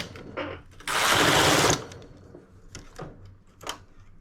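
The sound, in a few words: knitting machine knitting rib stitch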